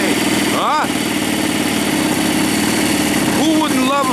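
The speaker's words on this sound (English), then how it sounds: "Who wouldn't love a four-stroke engine?" An ASP 5cc four-stroke model airplane engine, fitted to a Pietenpol Air Camper, idles in a steady, buzzing drone close by, while someone talks over it in brief bursts.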